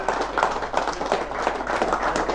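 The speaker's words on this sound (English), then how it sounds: "Everybody, big round of applause for Zach Hughes." A seminar crowd at a bass fishing event gives a brief round of steady applause, a fairly soft, even patter of many hands throughout.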